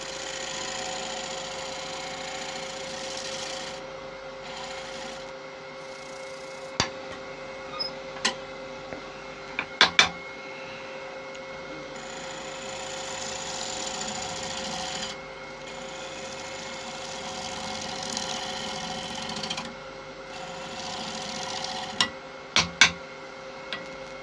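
A wood lathe spinning macrocarpa cypress during a finish cut, a steady close motor hum with a scraping whoosh of the tool that swells and fades in passes, plus a few sharp knocks.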